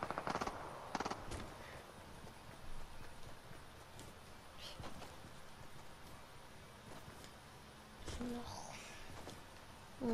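Video game gunfire rattles in quick bursts and scattered single shots, fairly faint against a quiet in-game background.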